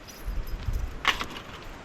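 A brief metallic jingle of keys rattling close by, lasting about a quarter second, over low background rumble.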